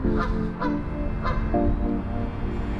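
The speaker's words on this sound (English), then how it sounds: "There's a lot of geese around." A flock of geese honks repeatedly nearby, the loud nasal calls overlapping in an irregular chorus over a steady background rumble.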